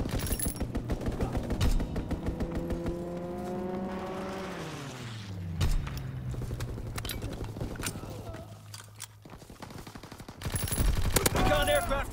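Gunfire in Call of Duty WWII team deathmatch, with rapid bursts of automatic fire and single shots crackling through the match alongside a descending aircraft-like drone and heavy closing volleys.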